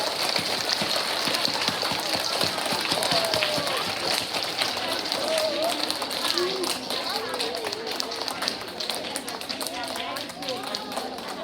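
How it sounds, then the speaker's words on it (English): Dense, steady applause fills a school assembly hall as first, second and fifth grade students are honored, a continuous patter of many hands clapping at close range with scattered voices mixed in. "give them a big round of applause"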